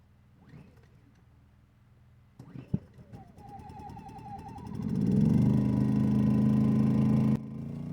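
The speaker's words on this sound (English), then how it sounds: "Let's see how many pulls it takes to get this engine fired." A Predator 2000 generator engine cold-starting on a frosty, near-freezing morning: two sharp pull-cord yanks, then the small engine catches and settles into a steady, loud, close running drone.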